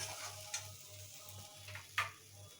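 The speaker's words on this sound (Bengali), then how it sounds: "আস্তে আস্তে গ্যাসের ফ্লেমটা কমিয়ে কষাতে হবে।" Paneer masala with cashews cooking over a low gas flame, giving a faint, steady sizzle with a low hum beneath and a few soft scrapes of a spatula.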